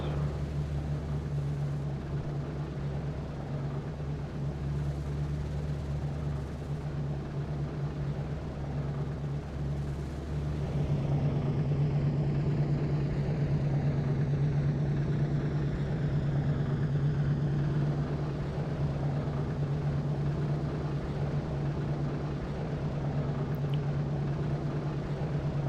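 The engines of a B-17 bomber warm up in a flight game, a steady low drone that thickens and grows louder partway through as another engine comes up to speed, holding an even rumble with no talk.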